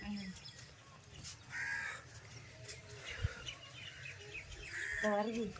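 Crows caw repeatedly from some distance in a village during Pongal morning, harsh calls scattered among ambient noise, with people talking now and then in the background.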